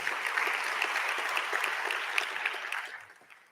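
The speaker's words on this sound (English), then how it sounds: "can we just give a round of applause to the entire panel?" A conference audience at the 2023 BRICS Urbanisation Forum in South Africa applauds a panel, with dense, steady clapping from many hands that thins and fades away at the end.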